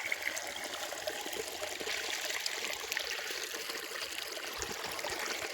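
Water flows out from under the soil as a steady, close rush of trickling and running water, continuous and even throughout with no voices.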